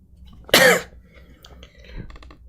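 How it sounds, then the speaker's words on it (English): A single harsh, loud cough right up close, followed by quieter throat noises and faint background sounds. "I'm so annoyed with all this coughing"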